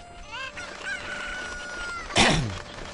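A chicken in Zelda Ocarina of Time gives a short run of squawking clucks and a drawn-out crow, followed by a loud flapping flutter. The bird sounds are close and clear over a faint hum.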